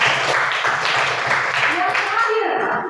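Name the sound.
classroom children clapping hands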